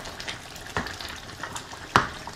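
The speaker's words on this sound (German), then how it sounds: "Und zwischendurch natürlich in der Pfanne einmal umrühren." Minced meat and vegetable sauce frying in a pan is stirred, giving a soft continuous sizzle with a couple of sharper scraping clunks from the utensil.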